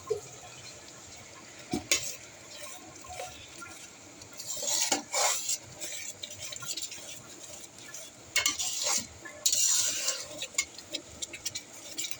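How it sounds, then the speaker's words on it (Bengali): Pineapple pieces are sautéed with spices in a pan for a hilsa fish curry, with scattered scraping and stirring scrapes and utensil clinks of varying loudness, some brief louder bursts, and no talk. "এখানে আমরা আনারসগুলো ভালো মতো কষিয়ে নিচ্ছি।"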